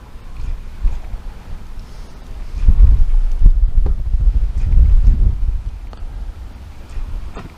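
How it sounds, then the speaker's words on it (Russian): An outdoor breeze gusts against the microphone during a pike fishing trip, making low, rumbling wind noise that swells and fades in waves, with no speech. "дует ветерок"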